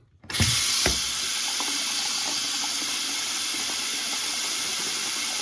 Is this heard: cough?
no